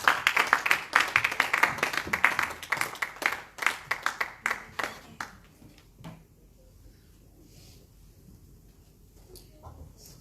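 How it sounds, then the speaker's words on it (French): A church congregation claps together in a burst of rhythmic applause that is loud at first and thins out over several seconds into a few scattered claps, then near silence. "nous allons acclamer pour la parole de Dieu"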